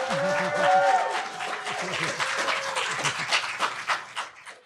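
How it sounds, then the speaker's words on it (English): Audience applause after a speaker at a student April Fools debate on the eagle versus the turkey, moderate clapping under a voice talking and laughing over it, tapering toward the end. "Let's have a big round of applause for Dr."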